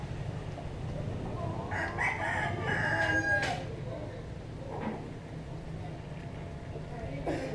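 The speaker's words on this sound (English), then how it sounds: "Also, a lot of roosters for cockfighting." A fighting rooster crows once midway, moderately distant, amid other fowl calls and a low background hum of voices at a village festival.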